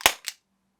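A confetti cannon from a magician's stage act fires with a sharp, loud pop followed quickly by a second smaller burst, then quiet.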